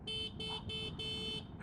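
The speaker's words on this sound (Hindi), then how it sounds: "अगर मैं ये हॉर्न बजाता हूँ" Horn of a TVS Orbiter electric scooter sounds four times close by, each a loud, steady electronic-style honk about a quarter to half a second long, with a faint fifth blip at the end.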